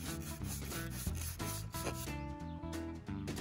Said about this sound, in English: I had to remove all the screws and sand down the wood first.